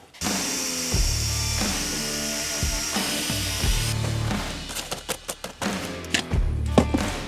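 A power drill fitted with a drill bit whirs steadily up close, then breaks into a string of short revving bursts before one more sustained run.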